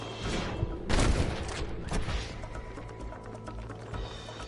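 Gunfire in Red Dead Redemption, a burst of loud overlapping shots around the one-second mark and again near two seconds, then scattered fainter reports over a noisy game background.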